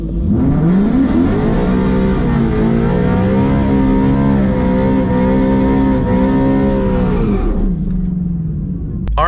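Ford Mustang GT with a 10-speed transmission doing a burnout: a loud, sustained engine roar held at high revs, wavering slightly in pitch, then cutting off near the end, close, with no talk.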